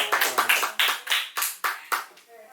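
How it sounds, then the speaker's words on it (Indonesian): Clapping in a small studio audience, about nine sharp, separate claps in an uneven rhythm, close and clear, tailing off at the end. "Kita tepuk tangan dulu buat Galih itu ya."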